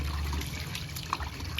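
Water is poured over the head during a bath on a rooftop, a brief close splashing and trickling burst that lasts under two seconds.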